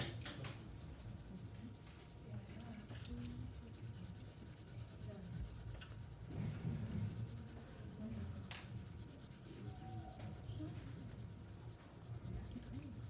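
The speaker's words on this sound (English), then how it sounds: "you're coloring in the full front face of the R with this pink color" A pink colored pencil is lightly coloring on paper, filling in a letter R. It makes a soft, continuous scratchy rubbing that stays faint and steady throughout, with no talking.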